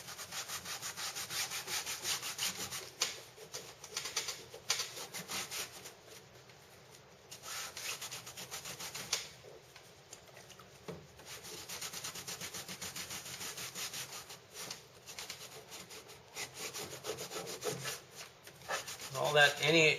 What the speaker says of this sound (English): go back with the alcohol and clean up whatever adhesive seems to be still there at the edge